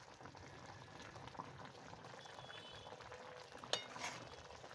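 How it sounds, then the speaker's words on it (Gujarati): A Kathiyawadi potato curry made with buttermilk bubbles in a pot with a faint, steady simmering burble and one brief clink partway through; no talking. "ઉકળવા લાગે ને આપણું શાક એટલે આપણું શાક ચડી ગયું છે"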